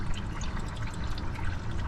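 Water pouring and trickling out of a flooded ex-CHP Chevrolet Camaro engine, a steady close splashing flow without speech.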